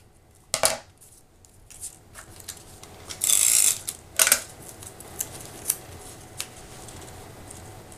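Scissors notch the ends of a paper pennant for a scrapbook layout, giving a few crisp snips and a short rasping cut close by, followed by light taps and paper handling, with no talking.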